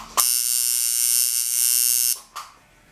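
A tattoo machine buzzes steadily at close range for about two seconds, a bright continuous electric whine with a low hum, then cuts off, followed by a brief second burst.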